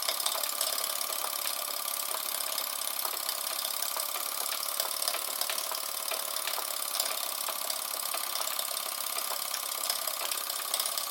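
A Jensen #100 steam engine runs on SteamCo STC 04 fuel in a workshop, giving a steady, continuous mechanical hum and rapid chugging throughout with no one speaking.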